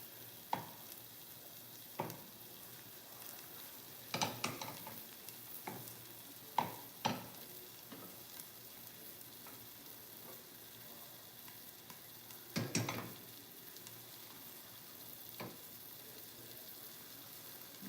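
Beaten eggs sizzle softly in a frying pan on the stove, a faint steady hiss broken by scattered clicks and scrapes of a utensil stirring.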